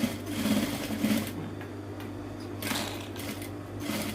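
Sewing machine stitching a hidden zipper into linen fabric, running in short steady bursts with pauses between, close and clear with no talking.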